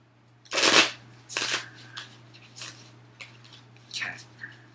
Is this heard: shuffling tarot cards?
yes